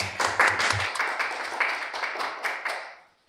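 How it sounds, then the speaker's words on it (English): A small audience claps to welcome a speaker at a lecture, with a few distinct hand claps standing out in an uneven patter that thins and fades away within about three seconds. "please do welcome him with a round of applause"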